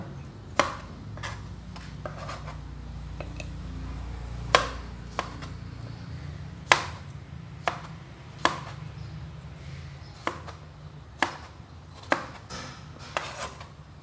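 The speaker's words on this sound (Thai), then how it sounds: "แตงกวาผมก็จะหั่นแฉลบนะ" A knife slices diagonally through a cucumber on a cutting board, sharp isolated chops spaced about a second apart against a quiet background.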